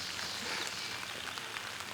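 Steady rain falls on a rainy day in Ohio public land turkey-hunting country, a soft, even hiss of drops on the surface with no voices, faint and constant throughout.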